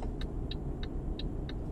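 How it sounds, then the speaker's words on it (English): Nearby road traffic surrounds a truck on a highway in Euro Truck Simulator 2, with a steady low engine and road rumble and a faint, regular ticking on top. "Oh, I hear the vehicles next to me."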